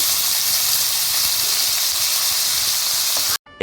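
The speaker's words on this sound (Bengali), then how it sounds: "দেখুন আমার তেল গরম হয়ে গেছে। আমি এতে ফোড়নে কিন্তু কিচ্ছু দেবো না, শুধু এই একটুখানি দারচিনি। আমি এই কেটে রাখা আলুগুলো দিয়ে দিচ্ছি।" Cut potatoes sizzling in hot oil with a little cinnamon, a steady loud hiss of frying that runs without a break until it cuts off abruptly at the very end.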